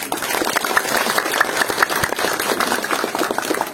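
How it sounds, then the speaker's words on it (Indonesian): An audience at a village cultural gathering claps for Anies Baswedan, a dense burst of many hands that stays lively and fairly loud for several seconds with a few voices mixed in. "Tepuk tangan untuk Mas Anies."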